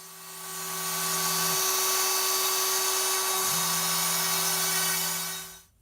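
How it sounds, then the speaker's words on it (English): A CNC machine routs the perimeter of a guitar fretboard with a steady, high-pitched spindle whine and cutting hiss, close and continuous for several seconds before winding down. "The last step in making the fretboard is to cut out the perimeter shape."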